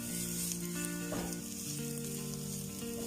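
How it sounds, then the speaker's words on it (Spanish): Onion sizzles in a pot with a steady, close frying hiss that holds for a few seconds, while faint tonal hums sit beneath it and no one talks. "La cebolla no queremos que se nos dore demasiado"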